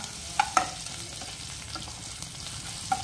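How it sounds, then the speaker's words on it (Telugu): Garlic and dried red chillies frying in oil for a tempering, a soft continuous sizzle with a few faint pops and stirring clinks, close but quiet and without speech. "అలాగే ఎండుమిర్చిని కూడా మనం ఎంబడే వేసుకోవాలి. ఇది జస్ట్ 1 minute కాస్తంత వేగించుకోవాలి"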